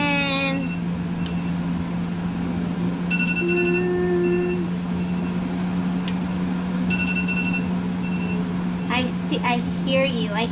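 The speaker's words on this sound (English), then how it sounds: "I hear you, alarm. I hear you." A kitchen alarm beeps in short repeated tones over a steady background hum while cooking goes on, with a few scattered clatters and noises near the end.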